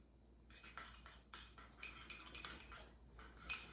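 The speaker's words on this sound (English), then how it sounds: "So I'm just going to stir it out real good." A spoon stirs mayonnaise and a dab of Dijon mustard in a small dish, making quiet, close clinks and scrapes against the sides in irregular bursts, with short pauses between strokes. No voices are heard.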